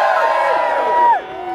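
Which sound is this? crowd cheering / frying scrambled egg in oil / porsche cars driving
crowd cheering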